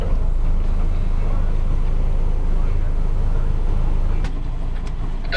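Boat engines rumble loudly and steadily during docking in Greece, the left engine running forward and the right in reverse. The low, continuous drone eases slightly near the end.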